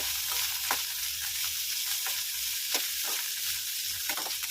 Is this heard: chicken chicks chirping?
no